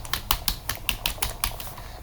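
A computer keyboard typed on steadily, crisp close clicks in an uneven rhythm of about ten keystrokes, heard alone without voices.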